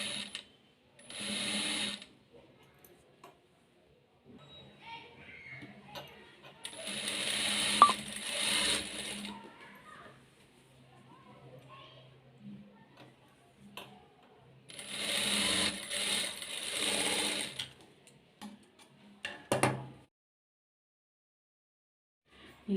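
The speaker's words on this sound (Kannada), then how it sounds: "ಫಸ್ಟು ಈ ಡಾಟ್ನ ಸ್ಟಿಚ್ ಮಾಡ್ಕೋಬೇಕು." A sewing machine stitches the darts of a blouse in three loud bursts of running motor and needle. Quieter handling sounds fill the gaps between them, and no one speaks.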